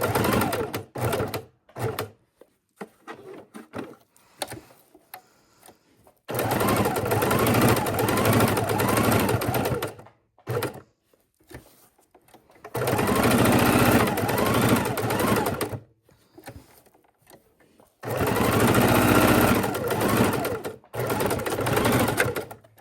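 A sewing machine stitches in the ditch around the center block of a quilted potholder. It runs in three long, steady bursts, loud and close, with short quiet pauses and faint handling sounds between them.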